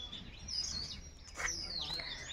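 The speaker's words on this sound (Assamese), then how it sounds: "চৰাই মাতৰ কোলাহল শুনক অলপ।" Morning birdsong outdoors under a cloudy sky, with thin high chirps and tweets scattered over a steady low background hum, moderately faint and continuous.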